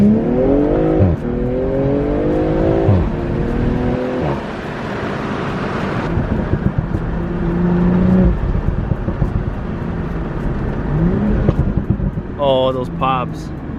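BMW M340i with a B58 engine pulling hard through the gears, the exhaust rising and dropping with each shift, then crackling pops at the end, loud and close inside the car with brief talk.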